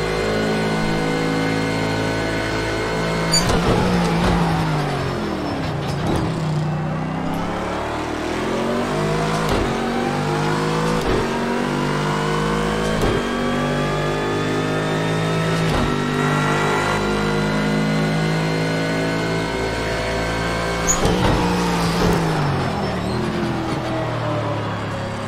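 GT3 race cars lap the Red Bull Ring in a racing video game, engines revving loud and close in rising and falling sweeps, with gear shifts and rival cars roaring past.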